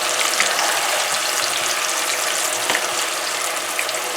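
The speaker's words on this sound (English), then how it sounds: "once these are done frying, they're gonna float up to the top." Chickpeas deep-frying in hot oil, a steady dense sizzle and crackle with small bubbling pops throughout, no voices.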